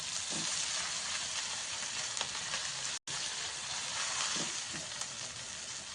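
Washed tender chickpea leaves hit a pan of fried chili and garlic, giving a steady close sizzle throughout with a few soft stirring knocks and one brief dropout midway.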